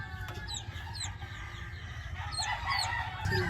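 A Brahma chicken clucks repeatedly in short, close calls, with a few sharper squawks standing out over a low steady background hum.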